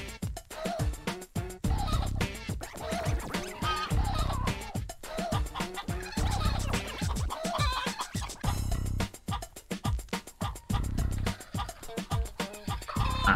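Clucking chicken sounds are arranged into the end-credits music of the video game Mort The Chicken, dense rhythmic clucks and gobble-like calls looping steadily and loudly over the whole tune with no talking.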